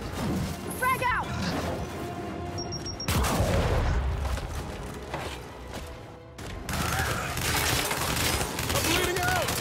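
A frag grenade blast and rapid gunfire in the Gears 5 video game, loud crashes and bursts packed across the whole stretch, with a voice talking over the combat.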